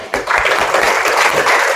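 An audience at a university teaching session bursts into applause, a steady wash of clapping at moderate loudness lasting under two seconds.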